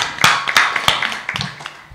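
Several sharp, irregular claps ring out close by at a public debate between regency head candidates, a scattered burst of hand-clapping that thins out toward the end.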